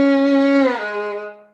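A single bowed violin note glides smoothly downward in pitch from second finger to first finger, then fades out.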